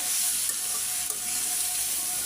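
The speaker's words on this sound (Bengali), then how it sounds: "এখন শুধু লাড়া দিব করলার মধ্যে আর কিছুই দিব না" Bitter gourd frying with spices in a pan, no water added, giving a constant loud sizzle with a couple of faint stirring taps, close by and without speech.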